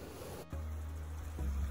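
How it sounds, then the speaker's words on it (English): Waves wash up onto the Lake Superior shoreline, close by and low, with a soft rumbling surge that swells again near the end; no voices. "with all these waves pushing all the way up to my feet"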